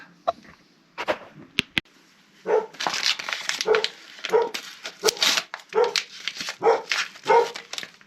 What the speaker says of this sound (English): Oh, my dog is barking there all the time.